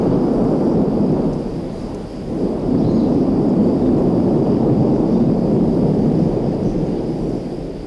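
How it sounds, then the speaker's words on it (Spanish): Thunder rumbles across a jungle in a loud, continuous low roar that swells and barely dips for several seconds, like a long rolling storm. "Advirtió cómo los truenos duraban una eternidad, recorriendo la selva"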